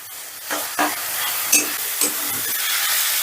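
Masoor dal with fish being stirred and sautéed in a pan: a soft steady sizzle with several distinct scraping stirs of a spatula at irregular intervals, close and fairly loud, no voices.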